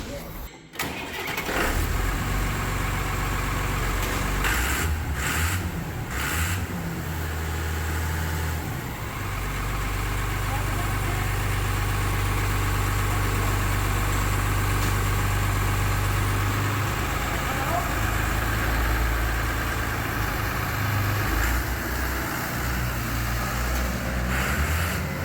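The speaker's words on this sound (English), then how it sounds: "to give you a nice impression how an old engine is sounds, let me run this machine here" An old John Deere machine engine cranks and fires, then settles into a loud, steady low rumble that runs for over twenty seconds, close up, with a couple of revving surges along the way.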